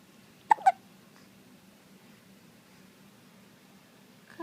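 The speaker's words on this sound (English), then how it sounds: "I got the hiccups" A child lets out two quick, sharp hiccups close together in a quiet room, with a faint television game show murmuring in the background.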